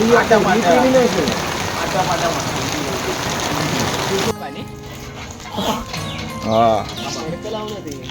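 Dense hiss of rain falling for the first half, then cutting to a quieter scene with a voice speaking and a brief animal-like cry.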